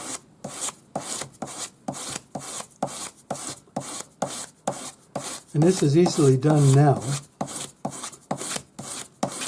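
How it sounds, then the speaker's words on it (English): Rhythmic rasping strokes of 400-grade sandpaper on a sanding stick rubbing a metal hollow bangle, close and steady, around eighteen back-and-forth passes, with someone speaking briefly partway through. "So just back with the 400 grade paper on your sanding stick."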